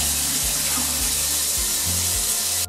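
Water pours steadily and loudly into a bucket, a continuous rushing splash with no pauses and no voices.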